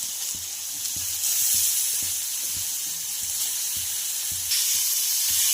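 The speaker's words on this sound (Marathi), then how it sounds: "मुळा सुद्धा आपल्याला 1 ते 2 मिनिटं छान फ्राय करून घ्यायचा आहे मीडियम गॅसवर" Grated radish fries in a pan over medium heat, giving a steady, close sizzling hiss with soft rhythmic scraping taps of stirring throughout.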